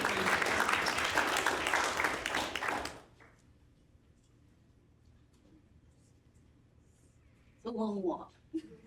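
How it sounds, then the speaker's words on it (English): Audience clapping at a rural pediatric continuing education conference for Ms. Joan Anderson, loud and dense for about three seconds before stopping abruptly, followed by quiet room tone and then a voice speaking near the end. "You can clap for her as well."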